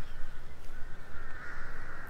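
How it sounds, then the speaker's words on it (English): A crow caws in a Bangkok park, a harsh, continuous call carrying over quiet outdoor background. "crow chasing a pigeon."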